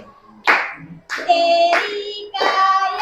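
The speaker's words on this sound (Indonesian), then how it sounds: "Iya, tepuk tangan dulu dong" A classroom group clapping in three short bursts with brief gaps, close and lively, with tonal voices or sounds ringing over the claps.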